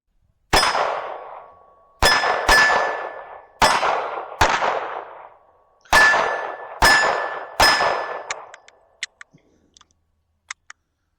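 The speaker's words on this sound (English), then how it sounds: "I'm going to walk my way in towards the target while shooting." Seven gunshots strike a steel target outdoors as the shooter walks toward it, each a loud sharp crack followed by a ringing metallic clang, spaced about a second apart, then a few faint clicks as the gun runs empty.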